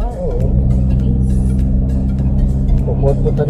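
Cars including a Porsche driving along the elevated Skyway Stage 3 expressway give a steady, deep engine rumble and road hum throughout, with faint voices underneath.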